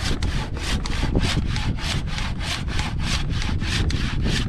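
A hand saw cuts through wood in quick, regular back-and-forth strokes, about three per second, rasping loudly and close by.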